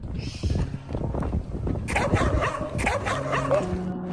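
Several dogs bark and yip in a quick, overlapping series outdoors, with whimpers mixed in, near and fairly loud, during the flight of a very large homemade kite.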